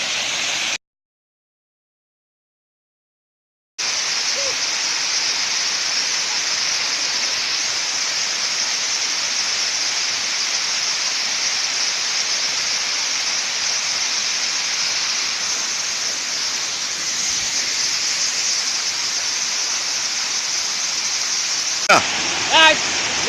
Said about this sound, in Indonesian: gue di sini air terjun yang ke-6